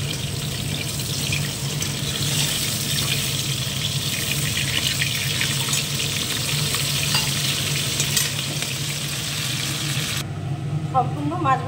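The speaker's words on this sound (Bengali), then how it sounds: "মাছটা লাল লাল ভাজা হয়ে গেছে।" Fish frying in hot oil in a pan, a dense continuous sizzle with spattering crackles and occasional stirring or water noises near the end.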